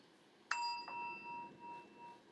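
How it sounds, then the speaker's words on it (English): A single bright bell ding struck once and left to ring out with a long, clean sustain over faint room hiss, with no talk. "Ready for the bell? Let me hear the bell."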